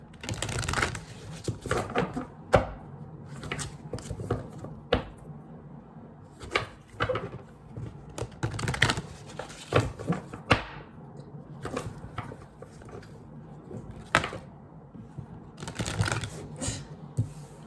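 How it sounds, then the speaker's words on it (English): Repeated riffling and snapping of tarot cards being shuffled by hand, several bursts of crisp papery slaps close to the ear, with no talking. "let me shuffle 4 times"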